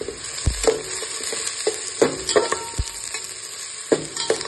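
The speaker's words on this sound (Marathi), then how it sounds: "हा आपला असा मस्त कांदा परतला जातोय" Onion being sautéed with marinated mutton in a pan, a continuous sizzle broken by repeated clanking stirs and scrapes of a spoon against the vessel, close and fairly loud.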